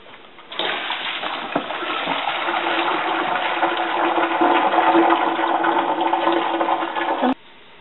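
Boiled potatoes are drained, with a steady rushing pour of water into a sink lasting about seven seconds, close and fairly loud, then cutting off abruptly.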